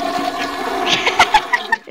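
Running water pours over a head in a Roblox VR game, a loud splashing gush followed by a few sharper sloshing bursts near the end.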